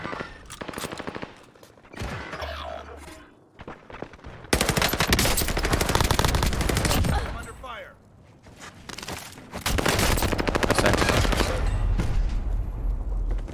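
Rapid automatic gunfire and bursts of shots in a Warzone battle royale match, loud and close, with pauses between volleys and a voice talking over the shooting.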